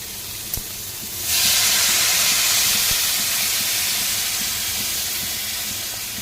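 Water hits hot frying bitter gourd, potato and coconut in a pan, setting off a sudden loud hiss of steam that holds strong and fades slowly, after a single knock just before.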